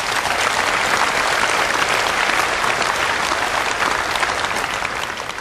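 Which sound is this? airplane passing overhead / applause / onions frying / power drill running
applause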